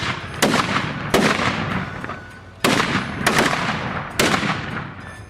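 Japanese matchlock guns firing, four loud sharp reports spaced about a second apart, each followed by a rumbling decay, close and alone with no talking.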